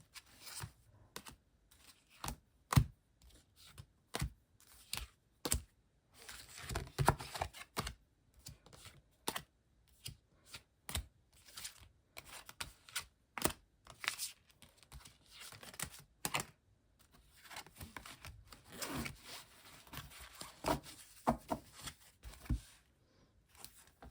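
Playing cards set down one after another on a table during a card reading, a long run of soft, irregular taps and light slaps, faint and close, with short gaps between placements.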